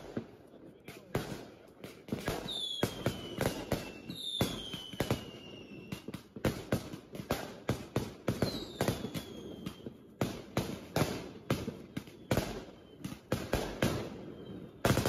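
Firecrackers burst outdoors at a family grave visit on the first day of Lunar New Year in China: dense, loud, irregular bangs with a few whistling shots, and occasional voices nearby.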